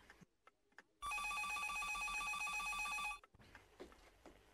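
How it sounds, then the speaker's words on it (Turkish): A telephone bell rings loudly and continuously for about two seconds, a bright metallic trill heard close, with faint household noise before and after. "Telefon çalıyor Kevser."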